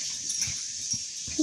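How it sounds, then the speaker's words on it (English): A hurt dog makes brief, faint whimpering sounds over a steady hiss, with a short louder cry near the end. "Poor dog."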